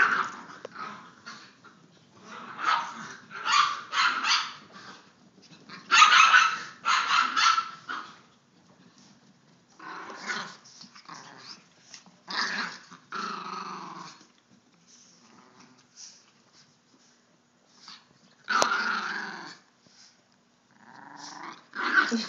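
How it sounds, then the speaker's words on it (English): Two chihuahuas play-fight nearby, trading bursts of growling, snarling and yappy barks in uneven flurries with short quiet gaps between. "Chihuahua mixed martial arts."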